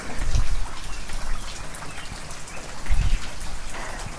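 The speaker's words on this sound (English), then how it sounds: "And the rain continues." Steady rain pattering on a cabin during a thunderstorm, a continuous close wash of drops with a couple of heavier low thumps, no voices.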